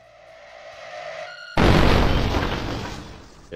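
Loud video-game explosion set off with a plunger in a back alley, a sudden close blast that bursts in after a low rumbling lead-in and rolls on with a long, slowly fading roar.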